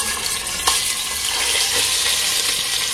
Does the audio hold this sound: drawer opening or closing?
no